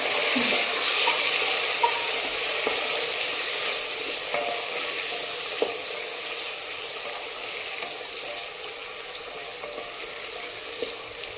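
Onions saute in oil for pavta bhat, a steady bright frying hiss with occasional faint ticks and light stirring, close and unbroken throughout.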